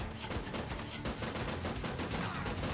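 Video game gunfire pours out in a dense, continuous volley of rapid, loud shots, with bursts following each other every fraction of a second and no pause.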